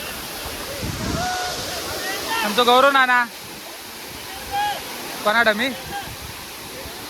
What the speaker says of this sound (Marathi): 1 नंबर धबधबा आहे.